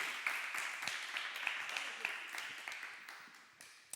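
A church congregation applauds in a steady, faint patter of scattered clapping that slowly thins out over a few seconds.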